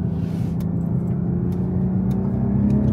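A BMW M340i under full throttle on the road, its engine producing a steady, loud, continuous low drone with a constant heavy rumble and no voices.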